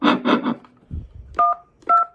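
An intercom phone running off a 9-volt battery sounds a few short bursts, then two clear two-tone dialing beeps, close and distinct over a faint background.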